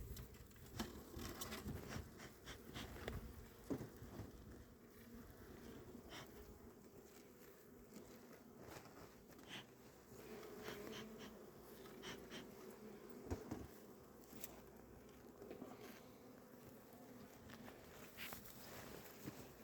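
Steady buzzing of many honey bees close by at a hive, a continuous hum with occasional louder passes of individual bees, with no voices.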